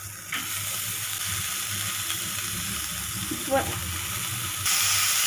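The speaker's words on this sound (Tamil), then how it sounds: "இதை வந்து நல்லா ஃப்ரை பண்ணிக்கோங்க" Sprouted green gram frying with green chilli and curry leaves, a soft, even sizzle close by with a brief clatter of stirring partway through, faint talk in the background.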